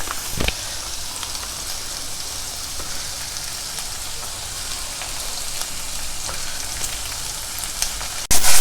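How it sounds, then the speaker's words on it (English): Vegetables sautéing with Daawat biryani paste for a vegetarian Hyderabadi biryani, a steady loud crackling sizzle like light rain, with an occasional utensil knock, close up and unbroken, no voices. "And then again saute everything together for another couple of minutes"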